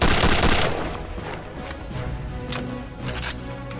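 Gunfire in the video game Return to Castle Wolfenstein: a burst of rapid shots at the start, then scattered sharp reports over a busy in-game background, with no talk.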